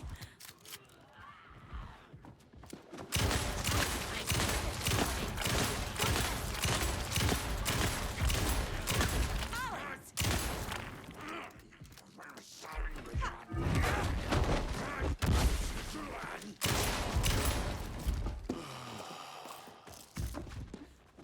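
Gunfire in the video game Alan Wake 2 (La noche se levanta DLC): long stretches of dense, loud shots and crashing impacts broken by brief quiet gaps, with speech in places.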